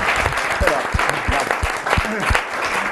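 Applause from a crowd at a youth baseball, cricket and golf sports event, a steady burst of clapping with a voice speaking briefly over it.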